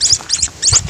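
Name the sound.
caught bird squawking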